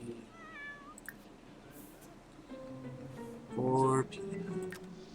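A cat meows in The Sims 4 during play on a couch, with several short meows, the loudest near the end, set against soft game music.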